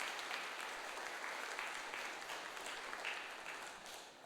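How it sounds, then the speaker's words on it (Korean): A church congregation applauding to welcome an elder, a dense, steady wash of many clapping hands filling the room and tapering slightly at the end. "우리 박수로 환영하도록 하겠습니다"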